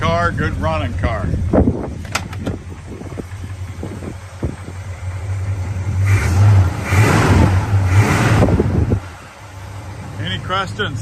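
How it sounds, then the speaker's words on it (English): A car with rebuilt transmission and dual exhaust at a car show in Waterbury, Vermont revs its engine in a sustained roaring burst, loud and close, with wind noise and someone talking before and after. "So, good sounding car, good running car."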